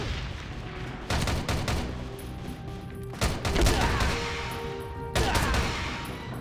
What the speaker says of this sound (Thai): เล็งและยิง